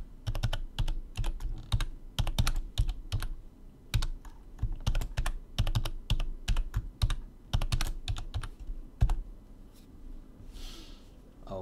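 Password typed on a computer keyboard: a steady run of close, crisp key clicks in uneven bursts with short pauses, heard alone with no talking.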